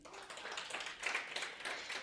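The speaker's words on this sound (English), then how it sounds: "A huge applause for them." Audience applause at a women in sport conference, a steady spread of clapping held at moderate distance and fairly quiet throughout.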